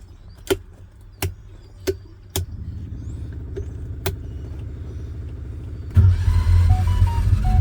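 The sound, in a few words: homemade vehicle with modified 670 cc Predator engine driving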